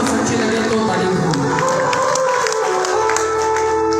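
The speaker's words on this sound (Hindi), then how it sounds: "बात अच्छी और सच्ची लगे तो ताली बजाओ" Devotees clapping together at a religious katha about Baba Shyam, loud and continuous, with crowd noise and music mixed in throughout.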